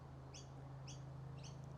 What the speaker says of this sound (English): This goddamn bird, I'm gonna go down and murder.